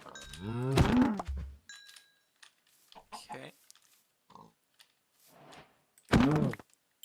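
Cows moo in a video game, a few drawn-out low calls spread across several seconds amid sparse keyboard-like clicks and soft game sounds, with someone talking at the start and end.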